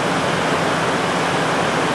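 A river that can flood up to the road rushes in a dense, loud, unbroken roar of flowing water, close and steady throughout.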